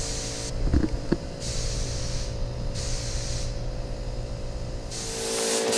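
A spray gun lays a second coat of International Harvester red paint on a toolbox for a Super M tractor, a steady close hiss that starts and stops in several long bursts over a low background hum.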